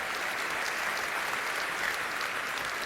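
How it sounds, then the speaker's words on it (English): Applause from a large audience for the Nice Opera Choir at the UEFA Champions League 2025/26 draw ceremony, a dense, steady roar of clapping filling the hall without pause. "One more round of applause for the Nice Opera Choir."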